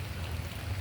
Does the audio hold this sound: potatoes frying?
no